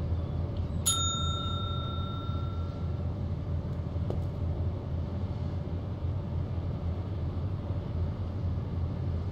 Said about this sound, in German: Und mit dem Flaschenöffner kann man Klingeling machen.